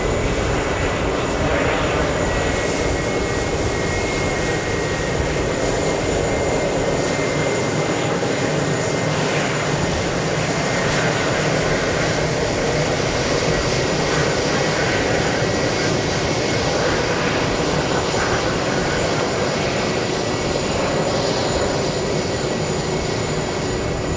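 Jet airliner in retro JetBlue livery at JFK, engines producing a loud, continuous broadband roar that holds steady throughout, with no voices.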